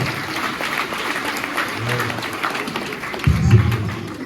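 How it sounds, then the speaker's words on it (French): A congregation of children at a Mass claps together, a brisk run of applause that swells louder toward the end, heard indoors with a little voice underneath. "On applaudit pour Kaka."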